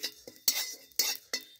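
Bay leaf, cumin and radhuni spices being stirred in a hot pan for a fish and papaya curry: three or four distinct scraping, clinking spoon strokes against the metal with a faint sizzle between them, close by.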